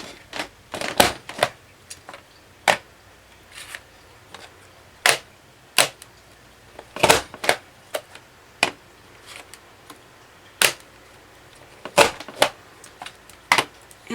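A Martha Stewart circle edge punch cuts a paper doily, giving sharp, crisp snaps and clicks that come one at a time at irregular intervals, each close and distinct against near silence.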